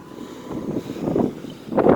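Strong storm wind gusts past the microphone in rumbling, uneven surges that swell and fade, with a louder blast at the end.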